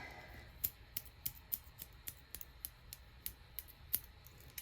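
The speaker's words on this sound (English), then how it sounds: "So I also have a tiny pair of scissors." Small scissors snip over and over in quick, slightly uneven clicks, about fifteen crisp cuts up close in an otherwise quiet room.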